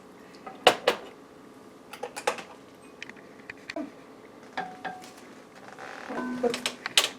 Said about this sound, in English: It's good and hot, so I'm going to ladle some out into a bowl.